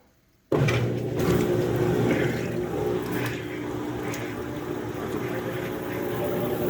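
A Maytag top-load washing machine starts abruptly and settles into a loud, steady whooshing rumble mixed with sloshing water as the tub spins up with the lid open.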